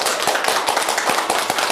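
Courtroom applause right after a not-guilty verdict in a retrial: a dense, continuous patter of many hands clapping, loud and close, with no talk over it.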